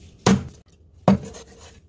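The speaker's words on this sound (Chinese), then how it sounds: "平整啲，剁一剁佢，" A cleaver chopping through roast squab on a board, two sharp, close, loud thuds about a second apart with quiet gaps between.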